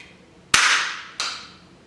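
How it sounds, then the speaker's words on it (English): A staple gun fires twice, pinning the fanned tail feathers of a turkey for a fan mount: two sharp, loud, close snaps about two thirds of a second apart, each with a short ringing decay. "So I'm using a staple gun"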